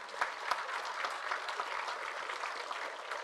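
A graduation ceremony audience applauds, steady dense clapping from a crowd filling the hall at even loudness throughout, with no voices over it.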